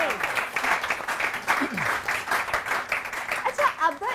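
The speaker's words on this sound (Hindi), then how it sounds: "इनके बच्चों के लिए तालियां होनी चाहिए" Studio audience clapping on a morning talk show, a steady moderately loud round of applause with a few voices and light laughter mixed in.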